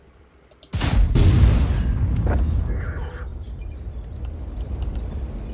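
A single heavy tank cannon shot booms in World of Tanks, preceded by a couple of soft clicks, then a loud low blast that rumbles and slowly fades into a sustained engine-like drone.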